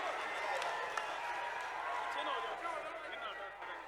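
A large rally crowd at a political gathering in Uchana claps and cheers to welcome guest Naina Chautala: a steady, dense wash of applause with crowd noise, held at an even level throughout.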